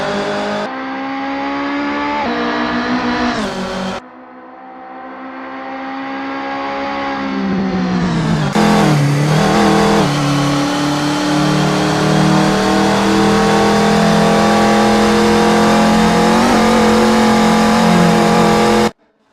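A VW Golf Mk1 race car in Assetto Corsa club racing at Barcelona, engine loud and close, revving up through gears with shift breaks, then holding a long sustained high-rev drone.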